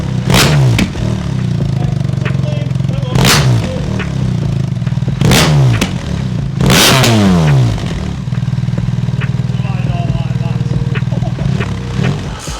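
BMW GS motorcycle fitted with a louder aftermarket exhaust, revved hard several times in quick sharp bursts over a steady rumbling idle, loud and close.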